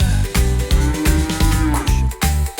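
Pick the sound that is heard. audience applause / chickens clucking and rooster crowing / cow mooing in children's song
cow mooing in children's song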